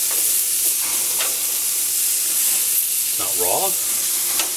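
Greek souvlaki meat skewers sizzle loudly on a smoky barbecue grill while being basted and flipped, a constant close hiss with a brief voice speaking over it near the end.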